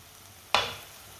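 Spices hit hot oil in a pan for a Pakistani-style sabji: red chilli, crushed red chilli and turmeric powder, giving one sudden loud sizzle that fades into a steady soft frying hiss.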